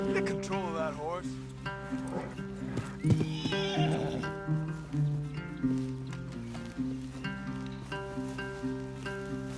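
In the video game Red Dead Redemption, a horse whinnies loudly with rising and falling neighs while hooves clip-clop on the ground, mixed with background game sounds and voices talking.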